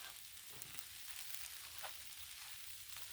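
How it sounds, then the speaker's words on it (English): Smoked sausage and vegetables sizzle steadily on a hot griddle, a close, continuous frying hiss with faint scraping and no one talking. "getting the char on the smoked sausage like the boss likes"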